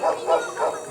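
A working dog on an alpine pasture barks three times in quick succession, close and moderately loud, with no one speaking.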